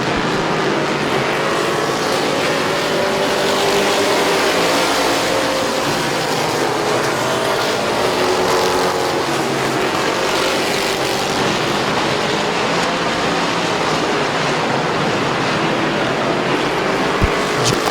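Race cars roaring around Midvale Speedway, a dense, continuous, loud wall of engine noise from several cars racing together, sustained throughout with no break or talking.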